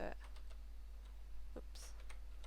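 Keystrokes on a Maltron one-handed keyboard, a few scattered clicks spaced unevenly over a steady low hum, close and fairly quiet.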